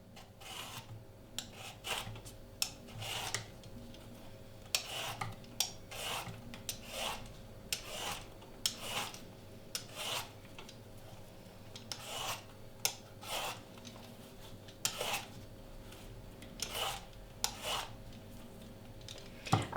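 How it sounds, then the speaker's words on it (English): A zucchini is peeled with a peeler, with repeated rasping strokes close up in a steady rhythm of about one scrape every second or so, alone in a quiet kitchen. "And I peel it."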